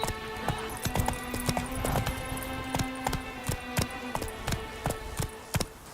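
Roach, the horse in The Witcher 3: Blood and Wine, gallops steadily with a rhythmic clip-clop of hooves, close and fairly loud, alongside game ambience and faint effects, with no talking.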